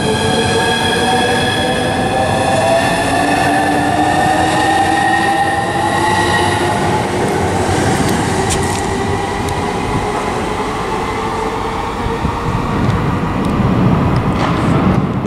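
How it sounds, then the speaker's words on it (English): Southeastern Class 395 high-speed electric train on HS1 at Stratford International, a loud sustained rumble with rising and falling whining motor tones as it passes close by. "1029 service from Faversham to London St Pancras by Southeastern"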